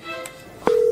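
A phone call tone in a monster-themed video game like Among Us, with a short click followed by a sustained steady electronic tone starting abruptly near the end, clear and fairly loud.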